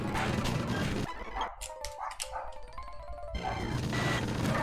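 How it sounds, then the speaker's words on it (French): A dog indoors lets out a close, sharp cluster of barks and yips, several quick calls over about two seconds, set against a steady noisy background that returns before and after. "Le chien il me fait chier, c'est incroyable."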